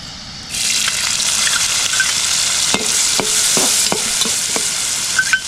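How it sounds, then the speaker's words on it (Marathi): Onion and tomato tempering fries hard in hot oil in a kitchen outside a house, a dense continuous sizzle that starts abruptly, close and loud, with a run of spoon knocks against the pan partway through. "आपण याच्यामध्ये कांदो आणि टोमॅटोची मस्त फोडणी देऊची"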